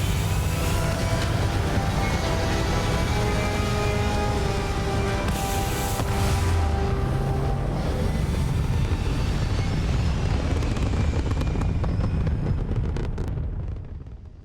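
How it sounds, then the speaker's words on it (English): Spaceship liftoff in the video game Starfield: a loud, continuous deep rumble with roaring broadband noise that holds steady for most of the stretch, swells midway, then thins out and fades at the end. "We have liftoff."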